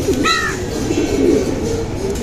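Pigeons kept as racing birds coo softly nearby, low throaty warbling over background hum, with one brief higher bird chirp early on.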